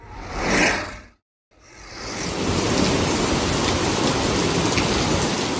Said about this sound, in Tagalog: Kabugso-bugsong ulan ang nararanasan sa bayan ng Alcala.